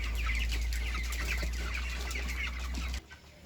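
Broiler chickens in a poultry shed cluck steadily in a dense flock chorus, close and loud, over a constant low hum that cuts off near the end.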